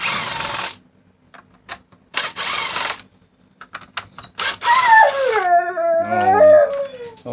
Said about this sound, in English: hound dog you hear